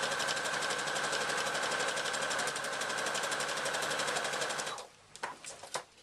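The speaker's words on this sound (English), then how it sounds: "if your machine's not up to it, then just take it slowly over the big lumps of fabric" A sewing machine runs steadily as it stitches a handbag through thick layers of fabric and lining. The motor hum is fast and even for about five seconds, then stops, leaving a few faint clicks and handling noises.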